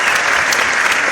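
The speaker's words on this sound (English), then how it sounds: "Can you give him a clap, please?" An audience at a film festival Q&A session claps steadily and loudly for the cameraman in a brief, dense burst of applause.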